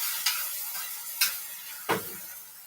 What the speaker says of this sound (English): we're gonna just kind of saute all that up